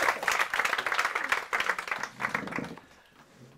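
Audience applause for a volunteer's first hypnosis at a live stage show, a dense crowd of clapping hands that swells, dips around the middle and trails off toward the end.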